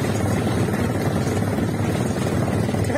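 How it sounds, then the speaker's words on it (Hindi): A rickshaw engine drones steadily and loudly throughout a ride, a continuous buzzing rumble with no break. "रिक्शे का शोर है रिक्शे का सुन करी है"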